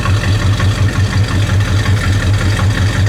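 A 1966 Chevrolet El Camino's big-block V8 idles steadily through dual exhaust, a loud, close, lumpy low rumble with an even pulsing beat and no other sounds.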